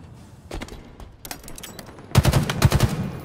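Gunfire in the video game Halo Infinite during a ranked Team Arena Oddball match: scattered single shots early, then a loud, rapid burst of automatic fire near the end, with no talk.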